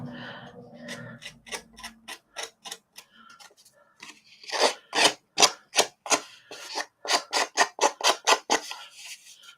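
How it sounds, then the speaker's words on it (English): An edge is roughened by rubbing, producing a series of short scratchy strokes that start sparse and soft, then speed up into louder, evenly paced rasps close to the microphone, with no talking. "I might just roughen that edge there just a little bit more."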